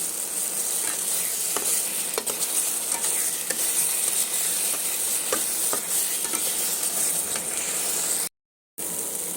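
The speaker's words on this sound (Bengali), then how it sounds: "মশলাটা ভেজে নেব ভালো করে।" Spice masala with tomato paste frying in a pan, a dense continuous sizzle with occasional scraping stirs, close and steady before a brief cut to silence.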